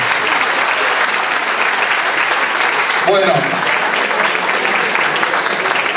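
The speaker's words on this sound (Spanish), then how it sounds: "Así que se merece un fuerte aplauso" Crowd at a year-end celebration in a neighborhood association hall claps loudly and continuously, with someone briefly speaking over the applause partway through.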